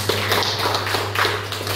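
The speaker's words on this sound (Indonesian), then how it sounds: "Beri tepuk tangan untuk semuanya." Schoolchildren in a classroom clap their hands together after a lesson, a quick patter of claps over a steady electrical hum, close and fairly loud for under two seconds.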